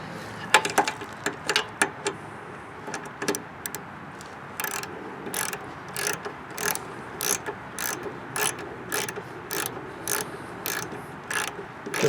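A ratchet wrench turns a 7/16 nut on the carburetor bowl of a Craftsman Eager-1 lawn mower with a Briggs engine, giving close, rapid clicking bursts in short repeated strokes with brief pauses.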